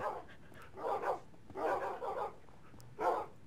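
A dog penned in a Russian town barks and yips in three short bursts, close and fairly loud, with quiet pauses between them and no voices.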